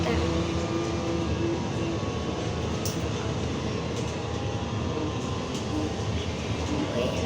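Interior ride aboard a Škoda 14Tr trolleybus, a steady loud rolling rumble and whine filling the cabin throughout, with faint clicks and a brief tonal hum near the start.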